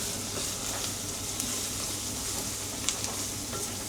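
Onions sizzling and frying in a pan for a large batch of keema, a steady close crackling hiss throughout with a couple of small pops, no talking.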